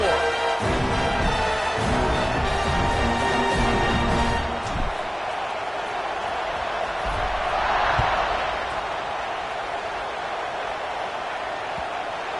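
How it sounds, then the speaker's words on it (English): Stadium crowd at an American football game produces a dense, continuous roar and buzz, loud and sustained throughout, with a broadcast commentator talking over it early on. "this crowd is buzzing after that last score"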